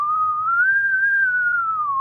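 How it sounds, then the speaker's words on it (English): A sad slide whistle in a cartoon, one sustained whistled tone that rises gently, then sinks downward at the end, loud and clear over faint background. "A sad, descending slide whistle plays"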